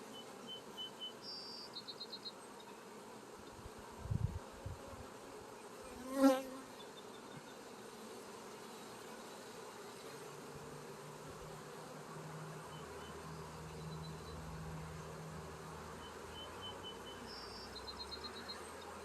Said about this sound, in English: I got tons of bees just hanging out.